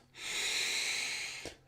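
A single deep, drawn-out breath during a Kundalini meditation, an airy, hissing inhale-exhale lasting over a second, close and alone, ending with a soft catch and a quick nasal puff.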